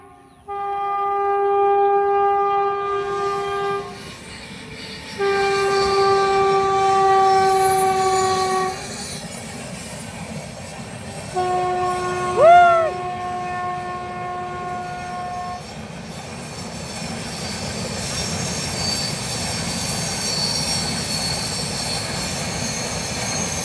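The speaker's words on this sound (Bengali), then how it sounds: "এই যে বন্ধুরা ট্রেন এসে পড়ছে," A train near Siliguri sounds loud, sustained two-tone horn blasts as it approaches. A brief squeal follows, then the rumble of wagons rolling close past, with no one talking.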